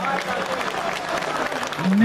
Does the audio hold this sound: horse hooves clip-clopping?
no